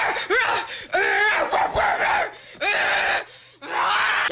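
A man imitating a dog with his voice, giving a run of loud, harsh barks and yelps in quick bursts with short gaps, close up.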